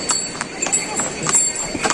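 Horse hooves clop on a steep mountain pilgrimage trail to Yamunotri, a brisk, uneven series of sharp hits close by, with people talking and outdoor noise underneath.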